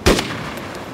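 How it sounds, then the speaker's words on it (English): A single sharp gunshot in the DayZ video game, loud and close, with a short booming echo that fades within about a second. "Dom, please don't shoot that gun."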